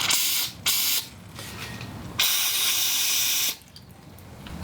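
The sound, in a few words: carb cleaner liquid coming out of motorcycle fuel injector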